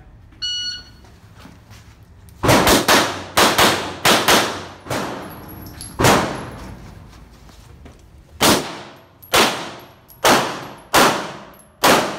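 Pistol shots fired during an IDPA shooting stage: loud, sharp reports in quick bursts of two or three, about fifteen in all, with pauses between strings and no talking.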